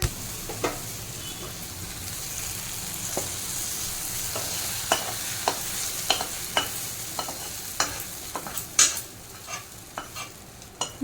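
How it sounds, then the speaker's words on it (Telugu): Tomato pieces sizzle softly in a dal tempering, with scattered sharp clicks and scrapes of a spoon stirring the pan over a low frying hiss. "తర్వాత టొమాటో ముక్కలు వేసి వేగనివ్వండి"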